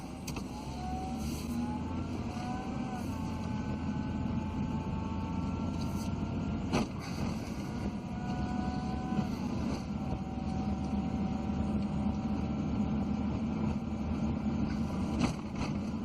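A 1997 Chevy 1500 pickup cruising along, its tires sending up a steady low road roar with engine hum underneath and a few faint tonal whines drifting above it, constant and unbroken throughout.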